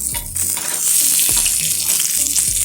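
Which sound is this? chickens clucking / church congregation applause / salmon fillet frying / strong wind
salmon fillet frying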